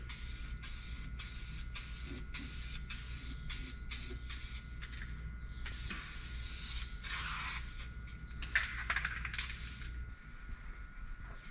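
An aerosol can sprays Eastwood rubberized rust paint as undercoating onto a truck cab. Short hissing bursts come in a quick, regular rhythm, then give way to longer, steadier sprays, all close and fairly loud.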